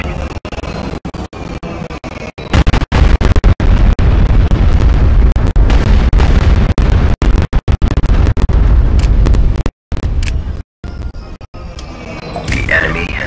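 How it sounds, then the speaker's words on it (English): Repeated heavy explosions from an orbital bombardment in the Star Wars: Empire at War Forces of Corruption strategy game, loud booms and bursts crowding together with brief drops to near silence, a game announcer's voice speaking over them. "Bombardment incoming."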